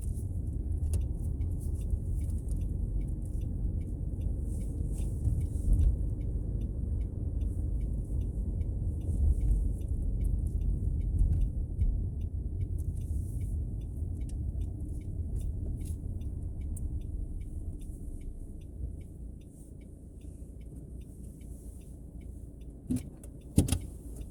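A car drives along during a driving lesson, heard from inside as a steady, muffled low engine and road rumble with a faint high hiss. The drone stays even, and a couple of small clicks come near the end, with no talking.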